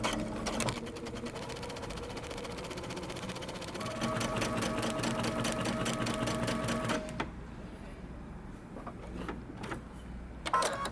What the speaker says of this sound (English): I'm going to create 2 rows of basting stitches.